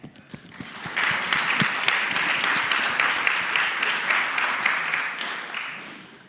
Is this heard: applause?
yes